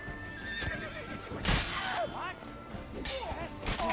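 Horse in The Witcher 3 video game whinnies loudly several times among clip-clopping hooves and a sharp thump, with a player's voice talking over the game sounds.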